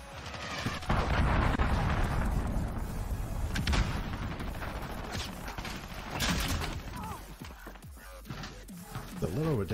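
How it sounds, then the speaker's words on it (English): Enemy cruise missile strikes in the Modern Warfare beta video game, with loud rumbling blasts and a continuous roar of explosions and debris. Voices speak over the din. "Enemy cruise missile, take cover."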